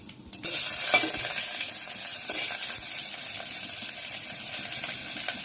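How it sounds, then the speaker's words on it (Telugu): Tempering seeds hit hot oil with a sudden loud hiss, then a dense, crackling sizzle continues steadily up close, with faint spattering pops throughout and no voices. "కొంచెం తాలింపు గింజలు,"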